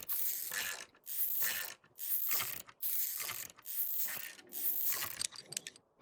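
Ratcheting wrench sounds from loosening a bolt on a car in Car Dealer Simulator, a series of five or six loud, steady mechanical clicking bursts, each about half a second long, separated by short pauses.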